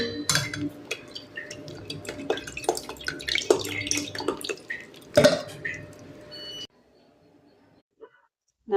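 Soaked tamarind in water is squeezed and strained, giving wet dripping, sloshing and small clinks of a utensil against a vessel for several seconds, then near silence.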